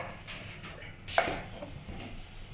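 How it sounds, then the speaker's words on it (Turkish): A single sharp knife chop through peppers on a cutting board stands out amid quieter kitchen scraping and clatter. "Biberimizi doğradıktan sonra soğanımızı doğrayacağız"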